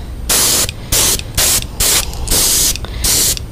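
An airbrush sprays pearl white paint onto a fishing lure painted in an Atlantic menhaden pattern, giving about seven short, close, loud hissing bursts in a quick uneven rhythm with brief pauses and no talking.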